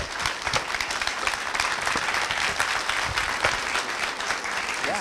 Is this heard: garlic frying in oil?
no